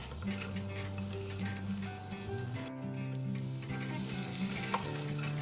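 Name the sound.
rice being fried and stirred in a pan for pulao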